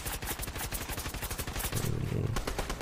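Rapid gunfire hitting a player-built wall in a Fortnite match, a fast rattling burst of shots with scraping clatter, moderately loud and close.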